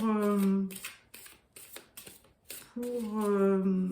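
A deck of golden tarot cards cut and shuffled in a few quick riffling bursts, heard close between stretches of a person talking.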